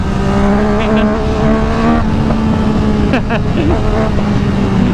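A Yamaha MT-09 motorcycle engine revs loudly and close, a steady harmonic drone whose pitch rises and dips, with a brief voice heard over it.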